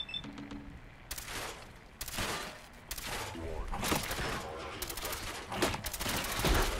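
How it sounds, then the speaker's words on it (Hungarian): Gunfire in the PC game Fallout 4, loud bursts of rapid shots in several volleys separated by short pauses, with faint game sounds between them. "Erre lövöldözök."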